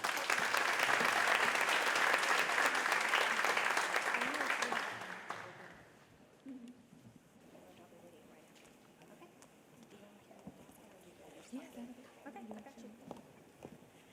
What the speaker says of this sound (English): So big round of applause for Lacey,